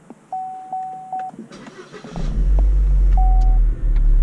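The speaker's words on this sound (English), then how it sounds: "Car starts." A Holden Cruze engine cranks via push-button start and catches about halfway through, settling into a steady, loud idle rumble after a few short electronic beeps.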